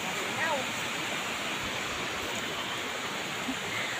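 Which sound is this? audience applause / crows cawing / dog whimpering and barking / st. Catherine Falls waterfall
st. Catherine Falls waterfall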